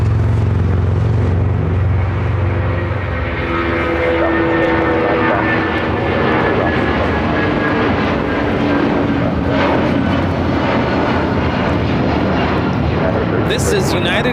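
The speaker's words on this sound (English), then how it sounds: "This is United Airlines 1331 taking off to Newark on a 757-200" A United Airlines Boeing 757-200 takes off at LAX, its engines building into a loud, sustained roar with a deep low rumble that fills the whole stretch.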